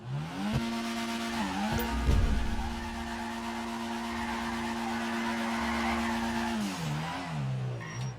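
A car drifting in GTA 5, its tires squealing in a long sustained screech over the steady engine drone, rising and falling in pitch as the car countersteers through the turn.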